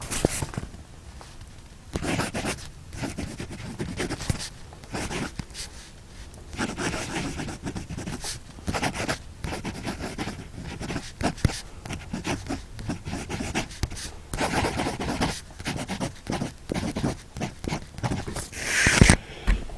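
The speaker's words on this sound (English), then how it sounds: "Hopefully you can hear that nib on the paper." A Wing Sung 698 clear piston-fill fountain pen nib writing on Clairefontaine paper, with the microphone beside the page: continuous soft scratchy strokes, close and steady, rising and pausing with the movement of the writing.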